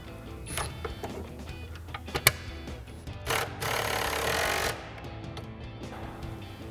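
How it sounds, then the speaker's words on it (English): Socket and wrench tighten 10 mm pinch weld bolts while fitting RedRock heavy-duty steel side steps to a Jeep Wrangler JL: close, scattered metallic clicks and ratcheting ticks, with a denser rasping burst near the middle, no talk. "So we'll use our 10 mil socket and 10 mil wrench."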